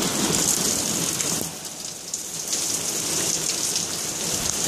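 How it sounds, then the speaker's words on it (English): Heavy rain pours down outside in a dense, steady hiss, close and loud throughout with no talk. "it is pissing down outside"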